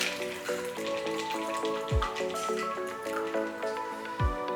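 Whiskey sour poured from a shaker into cups, a faint liquid trickle with drips and small splashes, against a tonal background hum that carries on under the pour.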